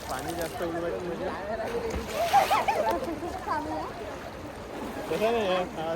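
Water splashing in a river as people swim, irregular sloshes and splatters heard under constant excited voices of girls talking and calling out nearby.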